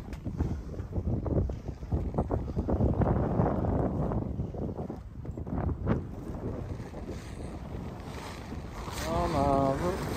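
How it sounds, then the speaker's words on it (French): Strong headwind of about 20 knots buffets a sailboat approaching a bay on the Turkish coast, a loud continuous rush of wind noise over water and hull sounds throughout, with a brief rising whine near the end. "On a le vent plein dans le pif ici."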